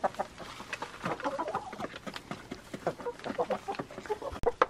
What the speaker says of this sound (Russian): Мои курочки.